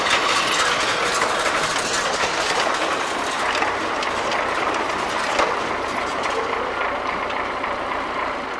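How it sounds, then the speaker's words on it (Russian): MTZ tractor driving a hay baler through its PTO in winter, a dense steady mechanical clatter and grinding, loud and continuous as the baler strains to take in hay. "Вот он еле-еле, обороты одни и те же, а он еле-еле его проглатывает."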